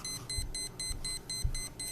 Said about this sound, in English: Let's see if the alarm goes off this time.